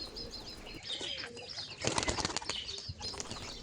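A flock of pigeons bursts out of a loft when released, wings clattering in a loud, dense flurry that peaks midway and then thins out, with a few faint chirps underneath.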